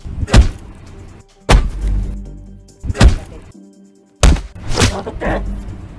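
Heavy blows land on a man in a Hindi action film fight scene: four or five loud, close thuds come at irregular intervals, each followed by a brief rumble.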